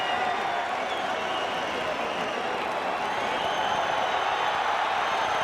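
Boxing crowd at a Vitali Klitschko versus Corrie Sanders fight applauding and cheering, a dense continuous roar of clapping and voices filling the arena at a steady level.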